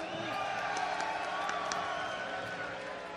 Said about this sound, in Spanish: ¡Un aplauso, porfa!